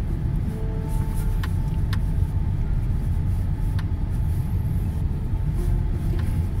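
A car creeps slowly along a rough woodland track, its engine a steady low rumble with road noise close and continuous, a few faint knocks and clicks over the drone, no talking.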